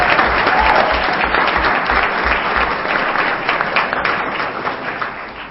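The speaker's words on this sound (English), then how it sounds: "big walkout round of applause for all those each of you tonight" An indoor audience at an evening meeting gives a sustained round of loud applause, steady at first and tapering slightly toward the end.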